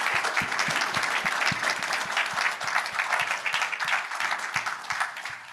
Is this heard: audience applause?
yes